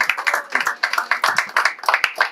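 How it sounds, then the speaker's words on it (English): An audience at a church business event claps in rhythmic bursts close to the listener. The sharp, evenly spaced hand claps repeat steadily and play alone without talk. "Ladies and gentlemen, a round of applause."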